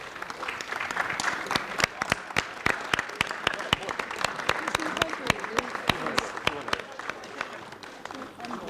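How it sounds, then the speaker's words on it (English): Audience applause for a prize winner at a DevOps leadership panel event, a steady dense clapping from a sizable crowd that sustains throughout, with sharper individual claps popping out over the wash. "let's give a big round of applause to Nilesh"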